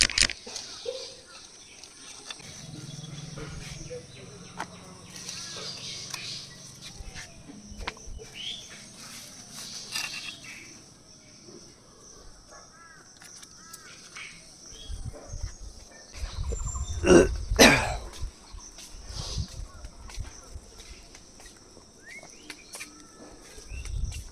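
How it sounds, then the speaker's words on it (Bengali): Several birds call and chirp intermittently in an otherwise quiet outdoor morning, with a brief louder burst of noise partway through. "মানে পাখির আওয়াজ, ডাকাডাকি,"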